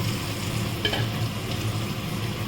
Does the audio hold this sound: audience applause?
no